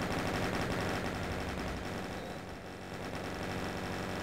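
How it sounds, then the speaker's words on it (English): Chain guns fire continuously in a video game, a dense, steady stream of rapid rattling shots at moderate level with no pauses across the stretch. "So many Marines with chain guns out there just firing away."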